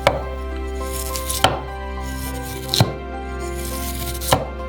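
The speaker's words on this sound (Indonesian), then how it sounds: "Berikutnya adalah wortel. Kita rencanakan sehingga kita mendapatkan piring-piring tipis." A knife slices a carrot into thin pieces on a cutting board, four sharp, evenly spaced chops standing out over a steady background of music.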